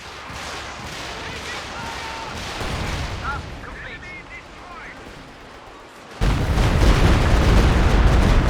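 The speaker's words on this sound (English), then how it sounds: "Stuka getting ready to fire here." Stuka rocket artillery firing in Company of Heroes 2, a rumbling barrage of rocket launches and distant explosions that swells into a loud, dense roar in the final seconds, over game battle ambience.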